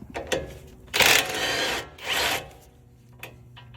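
A 3/4 wrench works the tie rod end nut on a Toyota Tundra, making two loud grinding, ratcheting bursts between quieter metallic clicks and scrapes.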